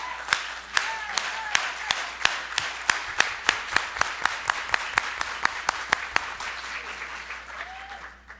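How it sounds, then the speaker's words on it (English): Audience applause at a leadership summit, rising into a strong rhythmic unison clap with sharp regular beats, then loosening and trailing off, with a few cheers and voices mixed in and a low steady hum beneath. "let's give him applause"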